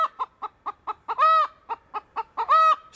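A hen loudly squawks and clucks near her freshly laid egg, a rapid run of sharp clucks broken by two long, strident drawn-out cries, close and alone with no talk.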